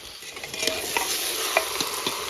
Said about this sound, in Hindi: और मीट को भी हम अच्छे से फ्राई कर लेंगे इन सभी चीज़ों के साथ।